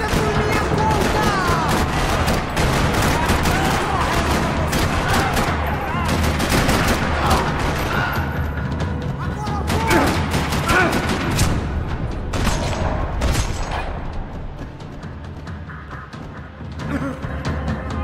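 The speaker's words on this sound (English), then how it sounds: "Another parking lot rattling with gunfire." Dense gunfire rattles across a parking lot in the video game Max Payne 3, continuous overlapping shots and bursts, loud and close, with a voice briefly under the barrage.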